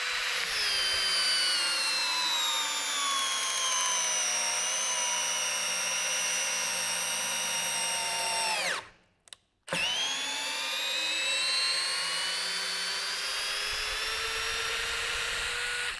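A Bosch GSR 18V 90 C cordless drill drives a long full-thread screw, its motor whining loud and close and slowing under load, then stopping briefly before spinning up again for a second run.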